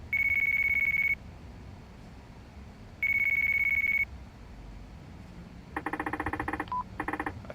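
A telephone in the video game Yakuza 4 gives two long, evenly spaced electronic rings, followed by a rapid series of short beeping tones, clear and loud with no voices.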